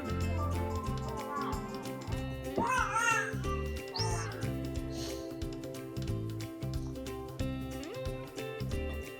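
A young child babbles and vocalizes in the background over a dense bed of music, the little voice rising in brief squeals.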